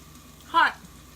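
A brief, crisp sizzle rises once from pork tenderloin frying in a pan, loud for a moment and then fading back to a low room hum.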